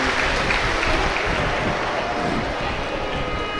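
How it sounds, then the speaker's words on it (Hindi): Audience at a Shiv Mahapuran katha religious discourse applauding loudly in welcome, a steady dense wash of clapping sustained throughout with a faint voice underneath. "एक बार सभी के लिए जोरदार ताली बजाकर स्वागत,"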